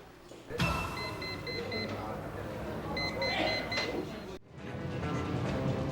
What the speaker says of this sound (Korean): 삐삐가 울리는 거예요.